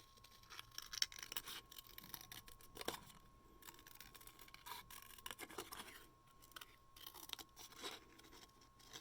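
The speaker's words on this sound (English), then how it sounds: "I'm just going to cut out this one" An old, gunky pair of scissors snips and rasps through paper while cutting out a design, a continuous scratchy series of close cuts with no talking.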